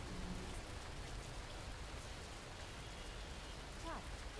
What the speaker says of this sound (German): Mitten im Regen.